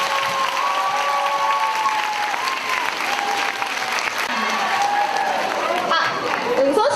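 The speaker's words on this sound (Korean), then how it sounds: "응원의 박수를 쳐주십니다" Audience clapping at a high school student presentation, loud, dense applause sustained throughout, with a voice speaking over it.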